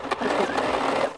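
A sewing machine runs steadily, stitching a fabric mermaid tail with a constant close mechanical whir and no pauses.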